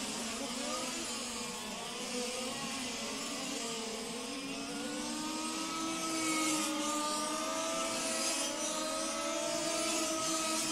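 Several electric RC touring cars whine around the track at a world championship lowest-scale final, their high motor tones rising and falling and overlapping as they pass, mid-distance and continuous.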